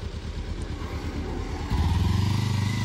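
A Kawasaki Ninja motorcycle engine idles with a low, even throb, then steps up to a louder, denser rumble partway through, close by.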